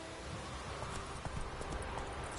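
Roach the horse's hooves clip-clopping in the video game The Witcher 3, a faint steady walking rhythm of soft hoof strikes over low ambient background.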